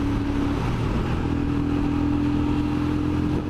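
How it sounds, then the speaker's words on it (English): A Royal Enfield Scram motorcycle in fourth gear near 5,000 RPM and about 60 mph, its engine cutting out, heard as a loud steady engine drone under heavy wind roar. "The bike cut out."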